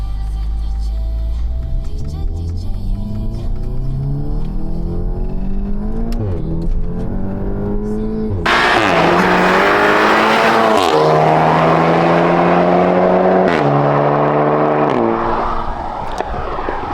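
Loud car engines rev and roar continuously in a stepped pattern of rising gear pulls, with a second, louder and brighter engine surging up close midway, on a road trip from Johannesburg to Maseru.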